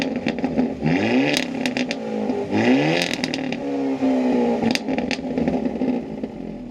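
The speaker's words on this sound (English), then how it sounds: "They absolutely killed it when it came to the exhaust. It's fun, it's loud" Hyundai Elantra N exhaust revving hard and loud, rising and falling through several throttle blips with crackles and pops between revs, sustained close up with no talking.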